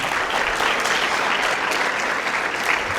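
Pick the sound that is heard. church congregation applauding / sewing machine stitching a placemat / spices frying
church congregation applauding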